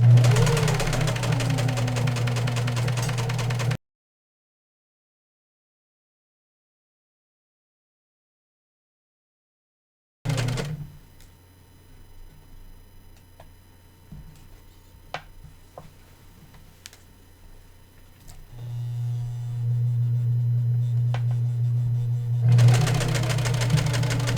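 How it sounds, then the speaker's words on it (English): A sewing machine stitching a replacement zipper onto a sack: a loud steady mechanical whir that cuts out abruptly, then after silence a low hum with faint ticks before the motor runs again loudly near the end. "Now we'll start sewing."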